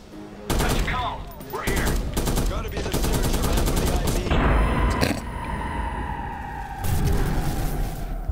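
Assault rifle fire from the Watch Dogs video game, loud bursts of rapid automatic shots repeating across the clip with booming impacts, close and dense.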